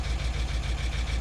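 A cheap BMW X5M engine idles with its intake side active and a fault present, giving a loud, steady low rumble with a regular pulsing throb close by and no voices.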